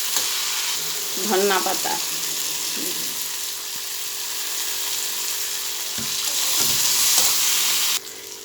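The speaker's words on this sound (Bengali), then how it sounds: "এবারে আদা কুচি আর রসুন কুচি দিচ্ছি।" Chopped ginger and garlic fry in a hot pan with a steady, loud, hissing sizzle that carries throughout, occasional stirring scrapes and someone speaking briefly over it.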